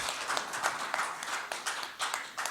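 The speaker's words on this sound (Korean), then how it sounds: "제 교수님께 다시 한 큰 박수 부탁드리겠습니다" Applause from a forum audience at a lecture by a university piano professor, a steady wash of many hands clapping at moderate distance, with no voices over it.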